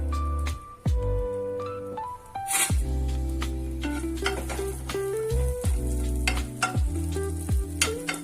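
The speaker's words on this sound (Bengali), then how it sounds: "এর মধ্যে আমি রসুন কুচিগুলো দিয়ে হালকা বাদামি করে ভেজে নেব" Chopped garlic fries in oil in a pan with a continuous close sizzle and crackle. Background music with shifting tones plays over it, and nobody speaks.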